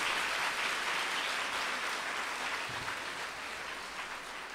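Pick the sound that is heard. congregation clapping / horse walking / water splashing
congregation clapping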